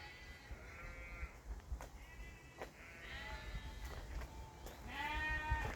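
Several sheep bleat nearby, a few distinct wavering calls spaced across a few seconds over faint outdoor background noise.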